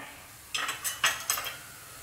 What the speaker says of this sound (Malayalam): ഓഫ് ചെയ്ത് കൊടുത്തതിന് ശേഷം ഒന്ന് ഇളക്കിയെടുക്കാം